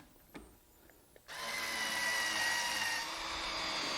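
Screws are tightened into a wooden bench-top tool storage cabinet with a power screwdriver, starting with a few light taps and clicks before a steady, close whirring drive hum takes over and runs to the end.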